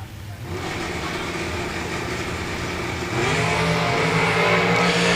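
Two drag race cars launch hard off the starting line, a loud sustained engine roar that jumps in intensity about three seconds in as the second car follows.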